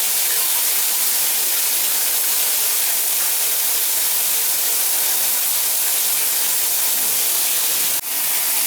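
Steady, loud rushing hiss of hot water pouring down a backed-up tub drain, continuous and close, with a brief clunk near the end.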